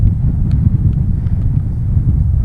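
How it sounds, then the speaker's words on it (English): Strong wind blowing across open dry farmland on a hot day, a steady loud low rumble of gusts buffeting the microphone with no let-up and no talking. "There's a strong wind which kind of takes the edge off a little bit"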